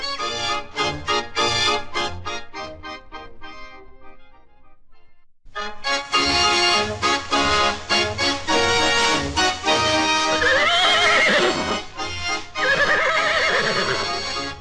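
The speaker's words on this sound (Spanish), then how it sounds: "Tal vez le sorprenda oír a un caballo." A horse neighs loudly in a long, shaking whinny, close up, followed by snorting and further whinnies with clip-clop sounds of hooves, no speech heard.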